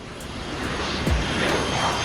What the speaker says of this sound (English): The colossal B-52 takes off on a mission over enemy land.